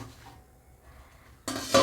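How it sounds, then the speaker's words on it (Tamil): Quiet kitchen hiss, then a sudden metallic clank and rattle as a lid is set onto a pot of boiling egg adai kulambu curry, close by. "கொதிக்கட்டும் நான் மூடி வச்சிட்றேன்"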